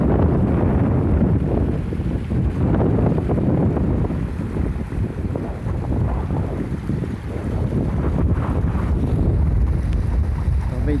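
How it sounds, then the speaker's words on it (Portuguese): Strong wind buffets the microphone outdoors beside a rushing river with rock slabs, a loud, continuous low roar and rumble that never lets up for the whole stretch. "o vento tá tão forte aqui, talvez esse vídeo não vai ficar muito bom, pois o vento tá soprando bastante"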